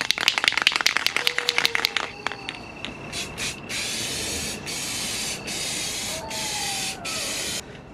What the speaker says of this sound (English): we're just using some crystal clear, Rust-Oleum clear on this.